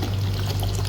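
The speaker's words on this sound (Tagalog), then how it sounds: "buhusan na ng tubig na galing sa nawasa" Water poured from a container into sautéed ingredients in a cooking pot for a Filipino odong noodle dish, a short continuous splashing pour heard up close, with no talking.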